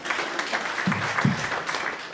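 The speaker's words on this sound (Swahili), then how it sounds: "Asante, tupigie makofi." Applause from the audience at a memorial service, a steady dense patter of clapping that fills the whole stretch at moderate loudness, with a few louder bursts partway through.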